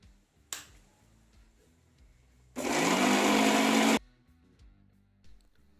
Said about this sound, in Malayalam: ഇത് നമ്മൾ മിക്സിയിൽ ഇട്ട് നന്നായി ഒന്ന് അരച്ചെടുക്കണം.